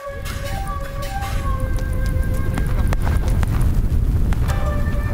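A firework launcher in the battle game TABS fires a rapid string of sharp pops and crackles, repeating steadily over a dense rumbling battle din with a musical soundtrack, and voices talk over it.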